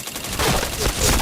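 Gunfire in a shooting video game comes as a dense burst of rapid shots, loud and close, filling most of the short stretch with no talk over it.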